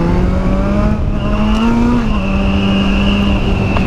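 A motorcycle restricted to 50 horsepower rides along city streets, its engine humming loudly and steadily close by, the pitch lifting a little midway before settling.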